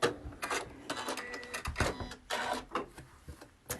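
A sewing machine stitching fabric in a basic beginner sewing lesson, running in quick rattling bursts with brief pauses between them, close and fairly quiet with no voices.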